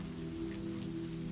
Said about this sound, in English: let the gentle patter of rain be your companion through the night's hours